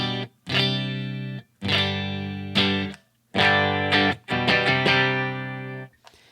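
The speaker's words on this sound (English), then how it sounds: "So here's what my clean tone is going to sound like." Clean electric guitar tone through a Line 6 HD500 multi-effects unit with delay and reverb, playing sustained chords in several phrases with short gaps, the repeats and reverb tails ringing out at the end.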